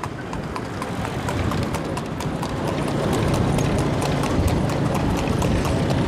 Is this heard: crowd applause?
no